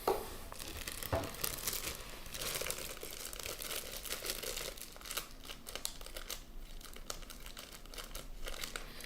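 Plastic packaging for an Apple device crinkles and tears open close by, a continuous rustling and ripping with scattered sharper crackles.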